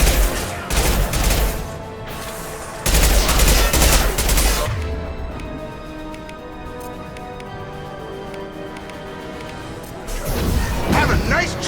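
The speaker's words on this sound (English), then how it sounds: "Firing an impact shot!" Impact shot gunfire in Mass Effect 2 crashes out in heavy, loud bursts separated by a quieter stretch, with voices talking amid the shots.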